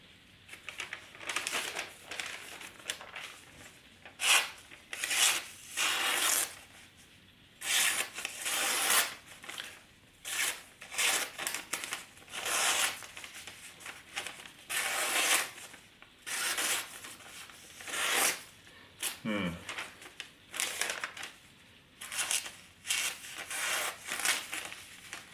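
A karambit knife slicing and tearing through newspaper, bursts of crisp rustling and scraping that come in uneven strokes, close and fairly loud, with brief pauses between cuts.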